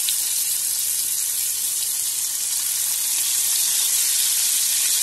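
Prawns hit a hot pan for a light shallow fry in a masala prawn curry, setting off a loud, steady, continuous sizzle that hisses on without pause.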